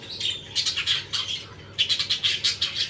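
Budgies chirp and squawk in bursts from breeding cages, their high twittering calls coming in two clusters, fairly close and lively, with no one talking.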